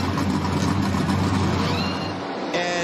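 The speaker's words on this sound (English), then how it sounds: "Go ahead, fire up when you're ready." NASCAR race car engines fire up and rumble at Charlotte, a loud, steady low roar of several motors close by that thins out near the end as a faint whine cuts in.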